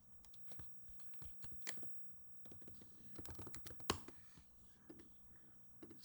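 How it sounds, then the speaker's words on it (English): Computer keyboard being typed on up close, with irregular bursts of sharp, quiet key clicks and short pauses between them. "Let's type the boilerplate code here."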